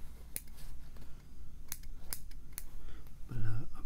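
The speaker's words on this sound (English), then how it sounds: "Got these scissors." Close-up scissors snipping in an ASMR setting: several sharp, crisp snips spaced irregularly over a low background hum, followed by a brief soft murmur.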